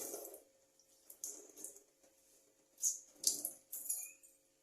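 A pink magic cleaning sponge for kitchen counters is wrung out, giving several short wet squishes and trickles of water in bursts, close and fairly quiet, with no talking.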